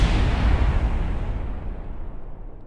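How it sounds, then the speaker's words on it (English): A rocket explodes in the Kerbal Space Program video game with a loud, broad rumbling blast that slowly fades and thins out over a few seconds. "Explosion."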